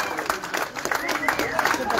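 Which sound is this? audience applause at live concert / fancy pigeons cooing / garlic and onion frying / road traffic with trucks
audience applause at live concert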